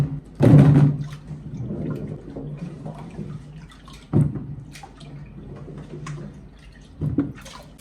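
Green plums are washed in water and tipped into a pot, with three louder splashing pours spaced apart and quieter sloshing and dripping in between, close by.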